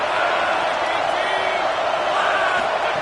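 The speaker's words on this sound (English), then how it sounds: "Decibels rising as the crowd gets behind this defense on third down." A college football stadium crowd at an LSU game roars on third down, a loud, sustained wash of cheering and shouting that holds steady throughout.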